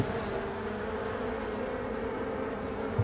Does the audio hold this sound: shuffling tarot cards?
no